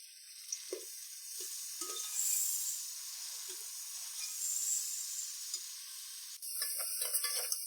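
Tomatoes frying with browned onions in a pot for Kabuli pulao, a soft continuous hiss and sizzle with a few faint spoon scrapes and taps, no voices.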